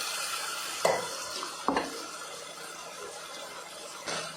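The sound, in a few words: stirring tomato onion with turmeric and asafoetida in pan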